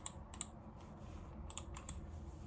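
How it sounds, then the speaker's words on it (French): Computer keyboard from a desk setup, typed in a few quick bursts of light clicks, quiet and close against a low steady hum. "je vais écrire avec le clavier"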